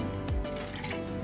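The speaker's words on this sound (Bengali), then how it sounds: "রেগুলার সয়া সস দিয়ে দিলাম" Regular soy sauce trickles briefly into a chicken marinade for homemade fried chicken, a short soft liquid pour.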